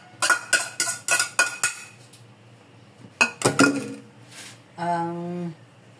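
Carrots tumble into a metal cooking pan in a home kitchen, giving a quick run of five or six clinking, clattering hits, then a pause, a few more knocks, and a brief low scrape or sizzle at the end.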